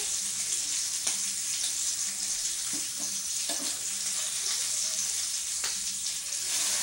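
Bacon fries in a pan during a home brunch, a soft, steady sizzling hiss with a few light clicks as strips are turned, heard fairly quietly without talk.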